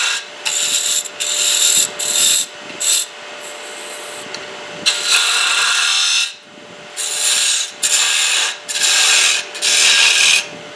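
Gouge cutting the outside of a wooden goblet on a spinning lathe, heard as loud, close bursts of hissing, rasping shavings in repeated passes of one to two seconds, with the steady lathe hum running between cuts.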